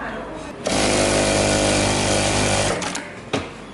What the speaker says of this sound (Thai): รุ่น A2 นะครับผมสามารถเย็บหนากับเย็บบางได้ ในเวลาเดียวกันนะครับ